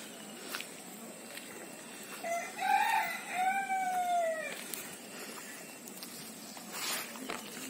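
A country rooster crows once at a moderate distance, a rising then long drawn-out call, over a quiet rural background with faint chicken sounds around it.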